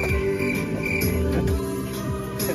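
Insects chirp steadily in a repeating rhythm during a nighttime bicycle ride in Pohang, fairly faint and close, with no voices.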